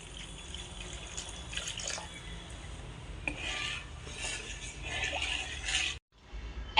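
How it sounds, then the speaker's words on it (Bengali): Water is poured into a pan of cooked-down curry masala for a sour-spicy snakehead fish curry with green mango and potato, a soft continuous splashing and bubbling close by that cuts off abruptly near the end. "এখন আমি আরেকটু সাদা জল দিয়ে দিচ্ছি।"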